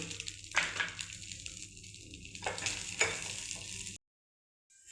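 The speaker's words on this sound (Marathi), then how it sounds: "आता याच कढईमध्ये आपण तुरीचे सोले टाकूत आणि छानसे असे खरपूस भाजून घ्यायचे" Fresh pigeon pea beans roast in a kadhai with a steady, fairly loud sizzle and a few sharper crackles. The sound runs for about four seconds, then cuts to near silence.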